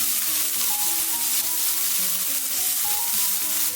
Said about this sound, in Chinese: 锅留底油，把切好的葱姜蒜末、小米椒全部倒进来煸炒